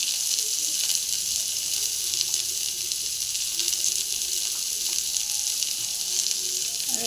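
Onions hit hot oil in a pan for a cauliflower curry, giving a steady, bright, hissing sizzle that stays even and close throughout.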